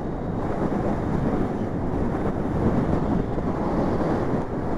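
Strong wind gusts buffet the microphone outdoors, a loud, steady roaring rumble that swells slightly without letup and with no voices.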